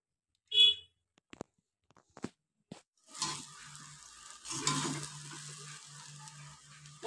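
Vegetable chow mein with peas, chopped soybean chunks and green chillies being stir-fried in a pan: after a few faint clicks, a steady hiss and sizzle rises and holds, with rustling stirring scrapes over it.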